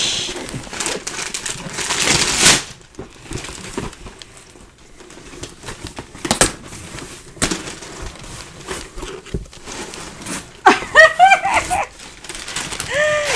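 An Amazon Prime cardboard box is ripped open close by, with scattered tearing and crinkling bursts and scraping handling noise, and a brief squeak near the end.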